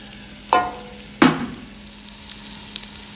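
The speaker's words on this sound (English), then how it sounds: "And now we're going to saute our zucchini." Zucchini sauteing in olive oil in the bottom of a pot for ratatouille gives two short, sharp sizzling bursts about a second apart, each fading quickly into a quiet, low hiss.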